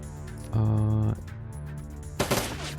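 Gunfire in the video game Shadowrun Dragonfall: a brief rapid burst of automatic shots, then a second sharper volley a moment later, over a steady game background.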